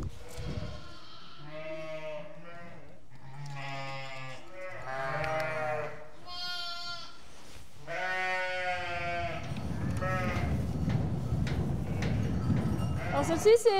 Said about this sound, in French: c'est des brebis qui viennent d'avoir les agneaux